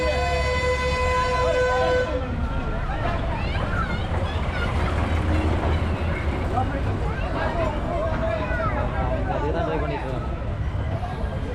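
The Cubbon Park toy train in Bangalore arrives with a few short toots near the start, followed by continuous rail rumble under steady crowd chatter and people talking nearby.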